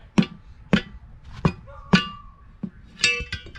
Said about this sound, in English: then you take a big rubber hammer